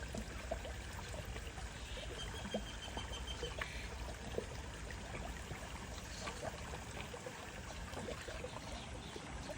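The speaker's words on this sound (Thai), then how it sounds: "น้ำตก ไหลลงมา" Water from a small waterfall spills steadily into a koi pond, a continuous broadband splashing wash at moderate distance with no pauses, faint overall and heard alone.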